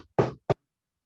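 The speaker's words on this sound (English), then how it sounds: "I'm gonna knock real loud" Loud knocking on a door or surface, two sharp raps close to the listener, the first slightly longer than the second, alone with silence after.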